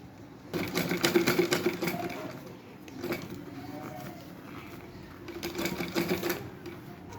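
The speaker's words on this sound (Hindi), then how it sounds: "तो देखो मैंने पूरे पे सिलाई लगा ली है।" Sewing machine stitching fabric for a handmade slipper, a fast, steady mechanical rattle in two bursts separated by a brief, quieter pause, heard up close.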